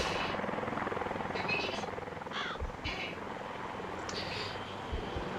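A Little Bird helicopter flies overhead with a steady, loud rotor thrum that fills the whole stretch, and faint thumps and distant noises sit underneath.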